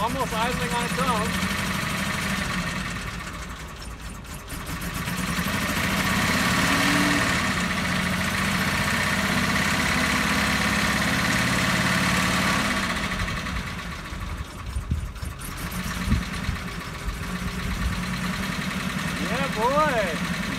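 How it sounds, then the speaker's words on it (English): A 1994 Mitsubishi Montero engine, revived after sitting abandoned in the Arizona sun, idles steadily at close range with a low, even rumble for about twenty seconds, dipping briefly near the middle, while people talk in the background. "Okay, it's idling on its own now."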